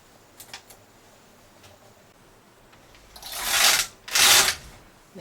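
A knitting machine carriage is pushed across a row in two loud, rasping sweeps near the end, after a few faint clicks of needles being set.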